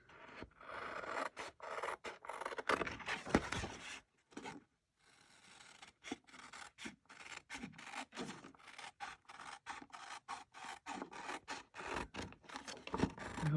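Scissors snipping around a paper coffee cup holder piece for an autumn mini craft, a steady run of close, quiet rasping cuts with one brief pause partway through.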